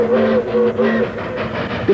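A train rumbles along the tracks close by in Ely, Nevada, with a sustained tonal whine riding over the rolling noise.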